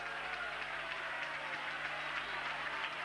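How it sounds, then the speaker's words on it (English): A Widnes rugby league crowd in a 1986 stadium jeers in a steady, distant wash of broad crowd noise, with a commentator's voice faintly audible. "He's getting booed by the Widnes crowd"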